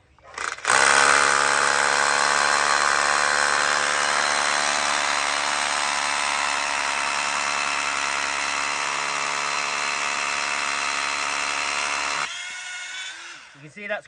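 A 12 V SDS hammer drill bores into a concrete lintel with rebar, making a steady, loud, rattling whine for about twelve seconds. It then stops abruptly, leaving a quieter tail.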